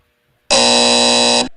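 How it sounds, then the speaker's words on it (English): A single loud game show buzzer blares for about a second, a harsh steady electronic tone starting abruptly and cutting off, alone against silence. "we got a buzzer there"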